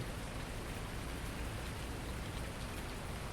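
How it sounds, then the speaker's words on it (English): Steady rain falls on a farm in Farming Simulator 19 as an even, dense hiss of drops. It holds at a constant loud level throughout, with no talk. "Oh, it is raining."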